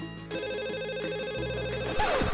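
A telephone rings indoors with a repeating electronic trill pattern, loud and close, ending as it is picked up just before anyone speaks.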